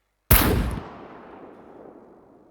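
A single Barrett sniper rifle shot in the video game SCUM, a sharp loud crack followed by a long fading rumble.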